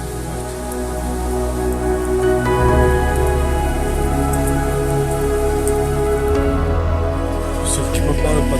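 Steady rain patters continuously on a surface, dense and close, with a constant hiss throughout.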